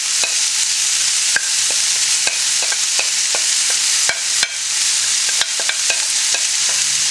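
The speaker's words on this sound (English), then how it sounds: "Give it a good stir." Amchar masala and salt being stirred into vegetables frying in a pot for pommecythere talkari, with a steady loud sizzle broken by sharp, irregular scraping knocks of the spoon against the pan throughout.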